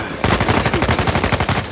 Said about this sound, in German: Komm, ich erschieß den noch